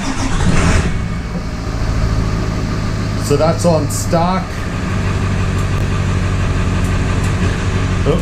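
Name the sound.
2000 Ford F-350 7.3 diesel truck engine starting and idling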